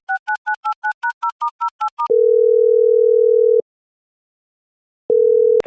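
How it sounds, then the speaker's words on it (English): Telephone dial tone heard during an outgoing call: a rapid series of short dual-pitched beeps, then a long steady tone, a pause, and the tone again, loud and clear with no voices. "I'll just call Michael and see how soon he can get here"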